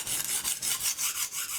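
A kitchen knife is drawn across a sharpening stone, giving rapid rough rasping strokes in a steady back-and-forth rhythm, close and fairly soft with nothing else heard.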